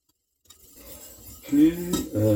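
A utensil stirs and whisks a creamy sauce in a pot for chicken waterzooi, with clinking and scraping against the pot that grows louder after a brief silence. The sound is close and lasts about two seconds.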